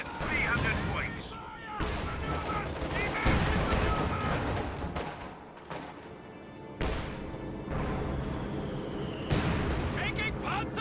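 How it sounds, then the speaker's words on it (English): Rapid booming cannon and gunfire from tanks in a WWII strategy video game, a dense run of loud blasts and crackling shots at close range, continuing steadily with game effects layered throughout. "Taking Panzer fire!"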